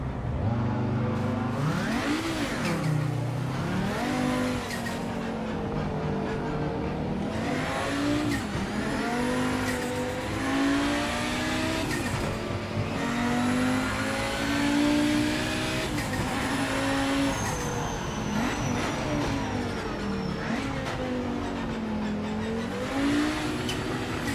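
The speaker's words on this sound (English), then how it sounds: "Car sounds pretty good" A race car engine in the sim racing game Project Motor Racing revs and shifts continuously, rising and falling through the gears with occasional tire squeal, loud and close from start to finish with no one talking.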